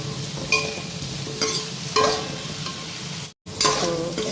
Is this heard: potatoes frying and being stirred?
yes